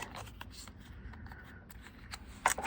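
A piece of cardstock folded over to the back of a handmade card, a brief soft rustle and crease sound up close, ending with a slightly louder scuffing flick.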